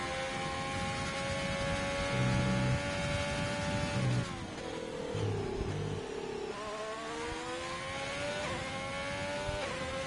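A race car engine in a racing video game screams at full throttle, its whine rising through the gears with quick shift dips and repeated climbs, loud and continuous with no voices over it.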